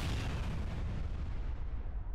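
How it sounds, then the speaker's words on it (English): A hot potato explodes in the video game Space Station 14, a loud, continuous blast roar filling the whole moment with heavy low rumble that thins slightly toward the end. "I will show you the explosion when it happens"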